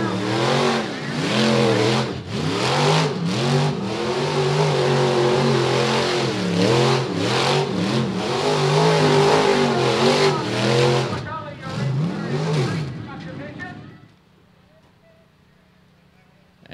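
Street stock race cars roar around a dirt oval track at the Volusia speedway, engines revving loud and continuous before fading away, with an announcer talking over the noise.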